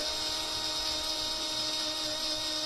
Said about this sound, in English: then you grind it back again.